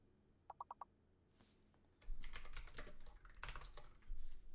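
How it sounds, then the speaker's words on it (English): Computer keyboard typing during a Fall Guys gaming livestream: a few light clicks at first, then a dense, loud run of rapid keystrokes in uneven bursts close to the microphone, with no voices. "Every single thing I was typing was already up there."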